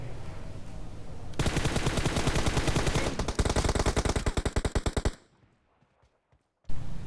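In the video game PUBG, AKM and M416 rifles fire one rapid burst after another, loud and close, the shots quickening and then cutting off into near silence before one last shot.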